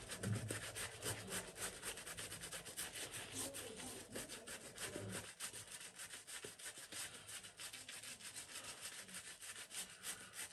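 A shaving brush works lather with a little water on the face, giving a close, continuous wet scrubbing and rubbing that goes on steadily without a break.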